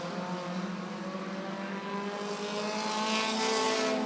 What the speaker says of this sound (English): As we are single file racing right now, Bart Brockman starting to close the gap on John Triggs.